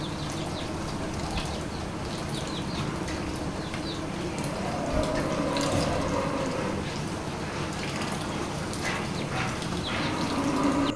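Water is poured over wheat grain set out as duck feed in a farmyard at dusk, a steady rushing gush under a noisy outdoor background with faint bird sounds.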